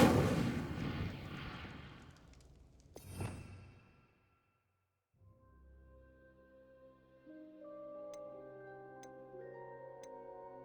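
A fire spell cast in Hogwarts Legacy: a loud whooshing burst with a sharp crack, fading into quiet, then sustained magical tonal hum and chimes afterward.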